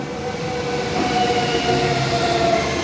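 Continuous rumbling roar of a train rolling past nearby, steady and loud with a faint tonal whine over the low clatter, no talking.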